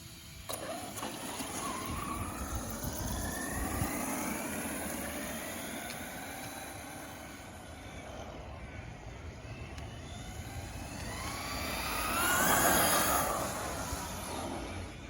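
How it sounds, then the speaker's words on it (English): An FTX Carnage 2.0 RC truck on a 3500kv 3650 brushless motor and 3S power runs outdoors, its high motor whine rising and falling over a steady broadband rush, swelling louder near the end. "this is going to be its first run with the brushless system"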